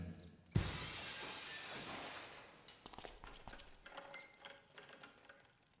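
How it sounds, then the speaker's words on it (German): Glass shatters with one sudden, loud crash that spreads into a long bright spray of breakage, muffled by a seat cover, in Dead Synchronicity. Scattered tinkling fragments and rattles follow and fade over several seconds. "Wollen wir mal hoffen, dass der Sitzbezug das Geräusch des zerbrechenden Glases abdämpft"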